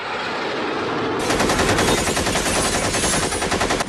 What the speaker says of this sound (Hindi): भाई गोलियां चल रही हम पर।